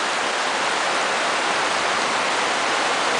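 Rushing floodwater through a street in San Roque, Marikina, a steady, dense roar of churning water with no pauses and no voices, continuous and close throughout.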